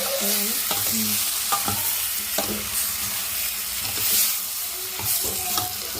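Chicken pieces coated in turmeric are stirred in a hot pan, giving a continuous sizzle with repeated scraping and clacking strokes from a spoon, up close, over faint tonal background sound.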